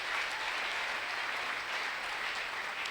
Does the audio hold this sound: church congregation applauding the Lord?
yes